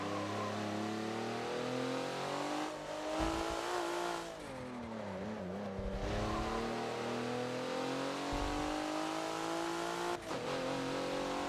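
Race car engine in Forza at Yas Marina's North Corkscrew track, a loud, steady roar at full throttle that rises in pitch through long pulls, with brief dips at gear shifts and no talk.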